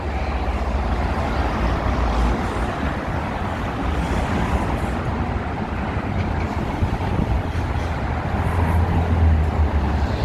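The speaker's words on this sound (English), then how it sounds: "I just love watching the cars going by, making the beautiful noise." Downtown Chicago road traffic with cars rushing past as a continuous loud roar, heavy low rumble and wind buffeting, the swell rising slightly near the end.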